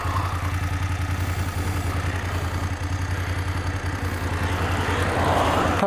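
A BMW F750GS motorcycle engine runs steadily through a test ride, its low drone constant and fairly loud with wind rush over it and no talking.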